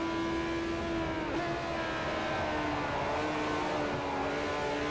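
Race car engine in Forza 4 during a 2008 Petit Le Mans race, a steady loud drone whose pitch dips briefly as it drops a gear, then holds near flat out, with no talk over it.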